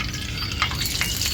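Besan jalebi frying in hot oil, a steady soft sizzle and bubbling with faint crackles, heard up close and alone without talk.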